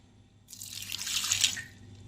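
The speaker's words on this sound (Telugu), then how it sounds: "కొంచెమే వాటర్ వేసుకోవాలండి" A short stream of water is poured into a pressure cooker holding carrots, a close splashing pour that starts abruptly, swells for about a second and then tapers off, with no speech.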